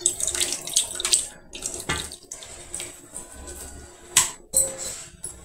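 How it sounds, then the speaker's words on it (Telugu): Water pours and splashes into a pot of tamarind dal soup being made at home, with several uneven bursts of gushing and sloshing over a steady background. "మనకు నీళ్ళు ఎన్ని కావాలో అన్నీ వేసుకోవాలి"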